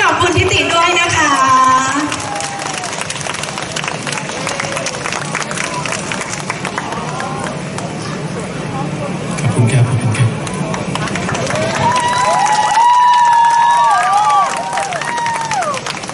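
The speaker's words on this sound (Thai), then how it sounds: "ขอเสียงปรบมือให้กับคุณทิติด้วยนะคะ" Crowd at a mini concert at a Korat shopping mall applauds and cheers amid busy hall noise, with a host's amplified voice and background chatter heard over and between the clapping.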